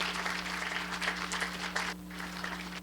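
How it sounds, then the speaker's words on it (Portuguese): An audience at a lecture on trisomy 21 gives a round of applause, moderately loud, uneven clapping from many hands over a steady low electrical hum, tapering slightly toward the end. "Uma salva de palmas"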